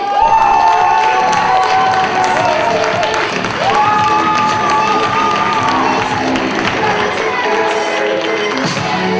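At a slam poetry contest, an audience cheers, whoops and claps for a poet, a loud continuous crowd roar with shouts and sustained vocal tones over scattered applause.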